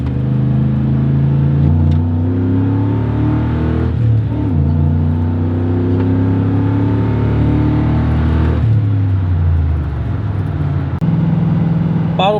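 A Ford F150 pickup truck accelerating hard on a timed run, its engine roaring loud and steady from inside the cab, pitch climbing and briefly dropping at gear shifts, with no talking.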